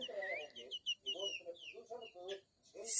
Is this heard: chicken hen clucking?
yes